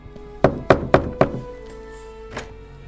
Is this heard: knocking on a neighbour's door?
yes